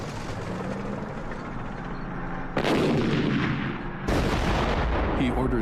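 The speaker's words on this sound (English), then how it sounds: "He orders his artillery to make the earth shake." Artillery fire in archival war documentary footage from the 1967 Arab-Israeli war, heard as a continuous rumbling barrage with two sudden loud bursts of booming blasts that hold at full strength.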